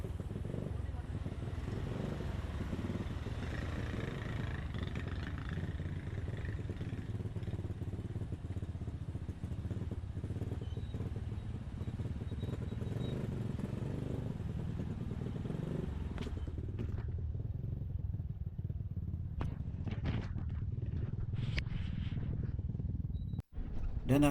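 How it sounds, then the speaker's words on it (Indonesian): A motorcycle rides across the Bromo sand sea in Indonesia, its low rumbling engine steady and fairly quiet throughout, with clattering and scraping bumps near the end. "kami turun dan melanjutkan perjalanan menggunakan motor menuju lokasi jeep kami yang sudah menunggu di dekat kawasan pasir"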